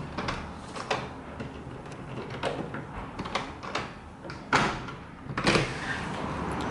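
A luxury hotel room door is handled while being unlocked with a key card, giving a series of close clicks, latch clunks and thuds, with two louder knocks near the end and no voices.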